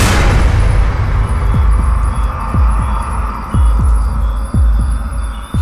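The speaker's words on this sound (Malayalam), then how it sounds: "എന്തത്, ഹാർട്ട് ബീറ്റ് കൂടുതലാണല്ലോ." A loud heartbeat effect thumps steadily, a dozen or so deep, close beats in an even rhythm over a continuous low hum.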